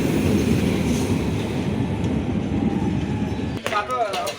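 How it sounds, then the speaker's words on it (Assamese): A passenger train starting to move on a route near Dhemaji and Digboi, with a loud steady low rumble of the carriage, then a brief clatter, squeal and clank near the end. "এতিয়া আমাৰ ট্ৰেইন ষ্টাৰ্ট হৈছে"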